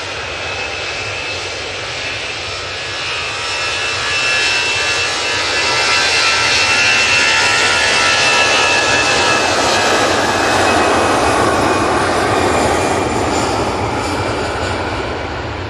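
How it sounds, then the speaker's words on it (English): Jet engines of an Airbus A330-200 roar steadily at Manchester Airport, a broad loud rumble that swells louder midway and holds, with no voices. "turn it up, everyone, because we do have an A330-200 over here as well"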